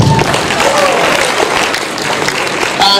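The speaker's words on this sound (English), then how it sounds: "Put your hand together for her. Clap, clap, clap for her." An audience at a small-business fair awards ceremony claps steadily for a few seconds, a dense, even burst of applause close by with a voice speaking over it.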